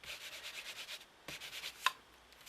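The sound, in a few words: rubbing a pink ink pad in crafting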